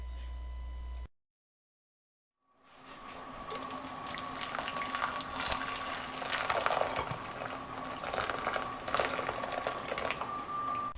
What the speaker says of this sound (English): this is the boil wash process